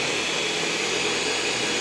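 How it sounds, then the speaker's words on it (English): An EcoVacs Deebot X9 Pro Omni robot vacuum runs on carpet boost, a loud, steady, close-up whooshing hum with no break over a couple of seconds. "the vacuum is going stronger now for the carpet"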